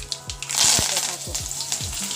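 Spices, urad dal, mustard and cumin seeds, dried chillies and curry leaves crackle and sizzle in hot oil in a pan for tempering, a steady bright frying hiss with scattered sharp pops, close and fairly loud, with a few low thumps beneath.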